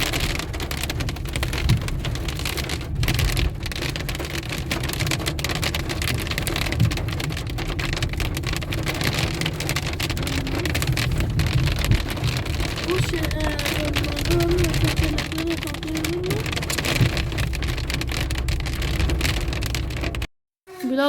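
Hail falls in Germany as a steady, dense patter of drops pounding surfaces, with a low rumble beneath and faint voices in the background throughout.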